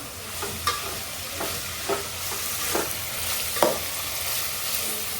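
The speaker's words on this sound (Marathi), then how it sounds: "हा जो कांदा आपण आता टाकलेला आहे तो चांगला आता गोल्डन ब्राऊन होईपर्यंत चांगला फ्राय करून घेऊया" Onion frying in oil until golden brown for homemade chicken biryani, with a steady sizzle and a few scattered spoon scrapes against the pan, close and even, without speech.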